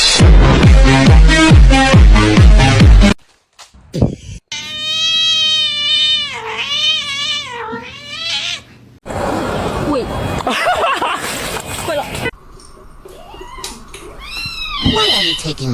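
A domestic cat meows and caterwauls in several drawn-out, bending calls, loud and close, with voices and other sounds in between.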